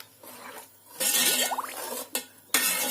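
A spoon stirs grated coconut and jaggery in a pan, with scraping, clinking strokes and brief sizzling bursts, close up and fairly quiet.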